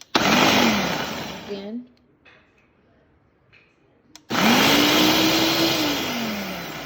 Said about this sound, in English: Put the lid back on, and we want to pulse it.